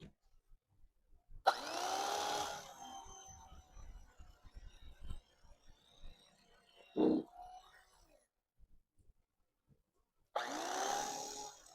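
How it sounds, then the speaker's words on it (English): An electric knife saws through a piece of foam in two loud buzzing bursts separated by quieter handling noises, the motor whirring steadily up close each time. "the easiest way to cut this foam, I find, is with an electric knife"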